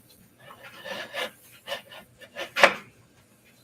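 A knife cuts through a hard block of sugar with effort, producing a series of short, close scraping and rasping strokes in an irregular rhythm, with one sharper, louder crack near the end.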